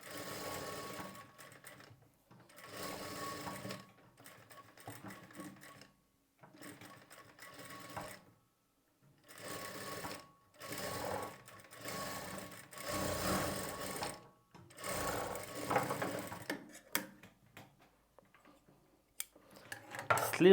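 A sewing machine runs a double stitch along a blouse sleeve in repeated bursts of whirring, short and longer runs separated by pauses, close and steady, with no voices.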